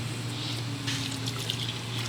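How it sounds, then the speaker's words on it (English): Water runs steadily into a mortar mix being made for repairing a rotten Victorian porch, a continuous close trickling pour with no talk. "So I'm just adding some water."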